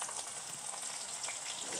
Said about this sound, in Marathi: तर आता आपण हिरवी मिरची कढईमध्ये टाकू